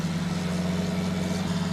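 A John Deere 8130 tractor in Farming Simulator 19 labours under load with a steady, low, droning engine hum that holds unbroken at moderate loudness throughout.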